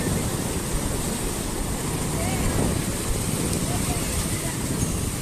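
A steady roar of surf and wind fills the scene at the Porbandar seashore, waves rushing and breaking continuously at close range.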